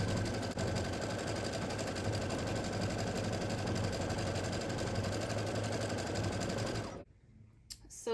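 An embroidery machine sewing a placement stitch to mark where felt goes, a dense rapid mechanical whir running steadily for about seven seconds before it stops abruptly, leaving near silence with a couple of small clicks.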